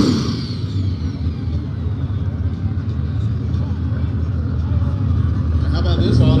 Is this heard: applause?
no